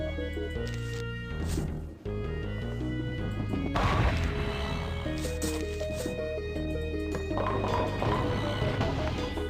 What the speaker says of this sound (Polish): Dziwne, że koń się trafiło